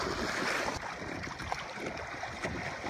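Water splashing over the bow of a Hobie trimaran sailing in rough, wavy conditions on Lake Superior, a steady rushing wash of spray and surf with wind buffeting the microphone throughout, no talking.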